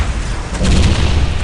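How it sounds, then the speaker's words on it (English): A battle cannon fires in Dawn of War, a Warhammer 40,000 strategy game, giving a single heavy boom that swells midway and rumbles on to the end. "Prepare the battle cannon."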